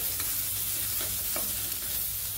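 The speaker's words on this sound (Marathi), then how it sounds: "तर ही ग्रेव्ही मशरूम शिजत आहे" Mushrooms for a gravy sizzle steadily in a hot pan, a close, continuous frying hiss with faint stirring scrapes and no voices.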